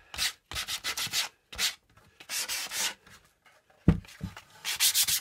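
Rhythmic back-and-forth scraping as a woodcraft piece is rubbed down to distress it for an aged look, close bursts of abrasive friction with brief pauses and no talking.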